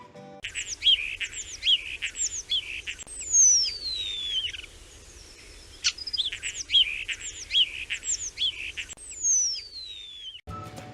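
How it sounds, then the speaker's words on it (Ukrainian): Starlings singing, a sequence of clear whistled phrases with sliding notes and short chirps repeated in bursts, close and alone over a quiet background. "Давайте послухаємо, як шпаки співають."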